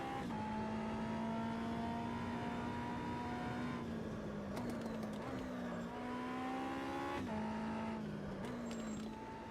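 A race car laps the Oschersleben circuit in the Automobilista racing game, its engine droning steadily at high revs with pitch dips and climbs through gear changes, loud and continuous throughout.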